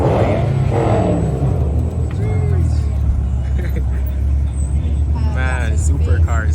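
Ferrari supercar pulling up at a car meet, its low engine rumble steady and close throughout, with people talking over it nearby.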